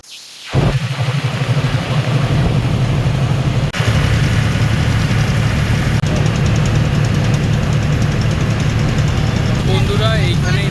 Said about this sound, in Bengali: এই হচ্ছে লঞ্চ।